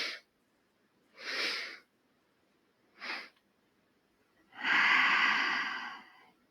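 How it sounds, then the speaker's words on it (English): Yoga breath-of-joy pranayama: three short sharp breaths a second or so apart, then one long forceful exhale of about two seconds, close and alone. "So we'll breathe in, breathe in, breathe in, then exhale, push back."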